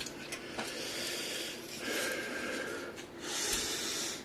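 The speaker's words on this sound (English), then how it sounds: "I could just sit here and sniff it all night" Close sniffing and snorting at a brand-new graphics card, several sharp nasal inhales with breathy hiss between them, loud and near with no talk.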